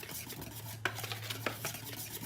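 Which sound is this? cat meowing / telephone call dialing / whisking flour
whisking flour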